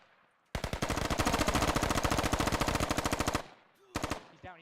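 Sustained automatic gunfire in the military shooter Squad, a rapid loud burst of close shots lasting about three seconds, followed by a brief second burst.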